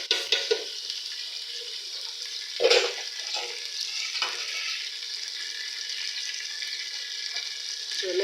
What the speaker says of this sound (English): wait and fry it for like 5 minutes before we continue with other ingredients